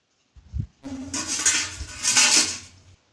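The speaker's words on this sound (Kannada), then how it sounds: "ನೋಡಿ, ಸೌಂಡ್ ಕೂಡ ಹೇಗೆ ಬರ್ತಾ ಇದೆ ನೋಡಿ, ಎಷ್ಟು ಕ್ರಿಸ್ಪಿಯಾಗಿದೆ" Crispy homemade kara sev, a fried gram-flour snack, gives a few crackling, crunchy bursts up close, with no talk.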